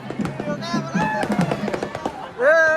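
Firecrackers pop and crackle in quick bursts, while people talk and shout nearby, at a traditional Ganesh procession with twelve bullock carts in Satpur, Nashik.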